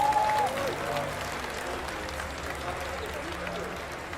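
A StarCraft 2 grand final crowd at DreamHack cheers and applauds for PartinG, a loud dense roar strongest at the start and then holding steady, with a brief voice heard over it early on.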